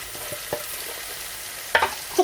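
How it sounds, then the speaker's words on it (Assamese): Local broiler chicken pieces frying in spice paste in a pan, quiet sizzling broken by sharp stirring scrapes and clatters, close and without talk. "এতিয়া মাংসখিনি ভালদৰে ফ্ৰাই কৰি ল'ব লাগিব"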